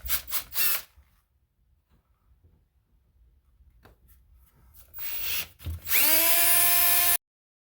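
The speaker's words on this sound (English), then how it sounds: "the first thing I'm going to do is drill a hole through here" A power drill boring a hole through a house wall for a hot and cold hose bib install: scattered handling knocks and short bursts, then a loud sustained whining drill run near the end, close by.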